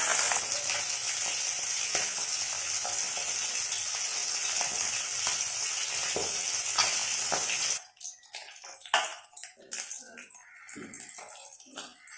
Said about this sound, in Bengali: আমি এখন ট্যাংরা মাছগুলো ভেজে নিচ্ছি।